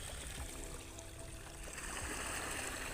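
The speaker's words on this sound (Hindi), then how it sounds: "इस घोले पे मिट्टी को अच्छे से घोल दिया गया है और इसको इस तरह बहाया जाता है" Muddy clay slurry flows along a channel at a brick kiln, a soft continuous trickle and gurgle of water running steadily at low level throughout, with no voices.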